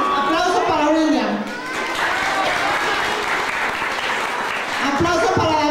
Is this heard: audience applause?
yes